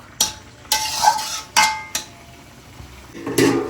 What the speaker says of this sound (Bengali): সবগুলো মশলা আমি ভালো করে মিক্স করে দিলাম আস্তে আস্তে হচ্ছে এটা কষানো হোক